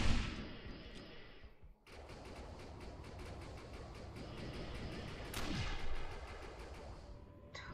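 Video game gunfire from Defiance fires as a steady, rapid stream of repeated shots, loud and continuous, after a brief pause at the start.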